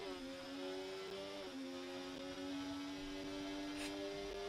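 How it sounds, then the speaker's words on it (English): Ferrari race car engine in a racing video game, a steady high whining drone holding pitch with a couple of brief dips as gears shift, continuous and fairly faint, no talking. "Did they update the engine of the Ferrari?"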